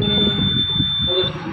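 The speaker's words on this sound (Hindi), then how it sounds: "तो जैसे ही कोई भी मोशन होगा इसके सामने तो अपना जो बजर है वो आवाज़ करने लग जाएगा।" A motion-sensor security alarm buzzer sounds a loud, continuous high-pitched electronic tone close by, holding steady for over a second.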